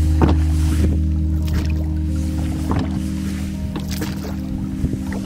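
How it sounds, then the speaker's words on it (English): A small sailboat is rowed across calm water with no wind, the oars giving regular splashing strokes about once a second over a low, steady hum close by. "Guess you're probably gonna row for another minute and then the wind will pick up."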